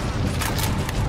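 Gunfire in the Mass Effect 3 video game, a dense, constant crackle of shots with a few sharper bursts standing out across a brief one-second burst.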